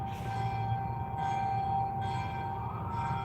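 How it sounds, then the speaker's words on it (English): Church bells ring out on a Manila street, a steady tonal chime repeating in slow strikes over a constant hum of city traffic. "And you, of course, got church bells."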